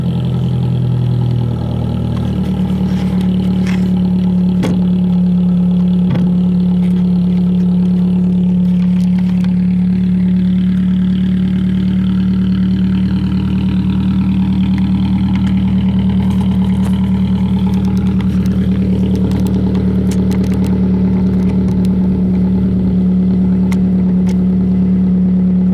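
A 2020 Toyota Corolla LE idles cold with a steady, loud, low exhaust drone and no revving, the engine tone holding even throughout.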